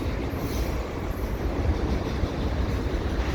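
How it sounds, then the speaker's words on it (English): A CP freight train rolls past at Dorval as its last cars approach, a steady rumble of wheels on rails with faint squeal, heard from trackside at moderate loudness and without talk. "the end of the train is coming up here"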